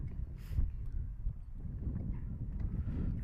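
Strong wind blowing across an outdoor softball field, a low rumbling buffet with gusts that rise and fall continuously, fairly loud and close with no clear voices.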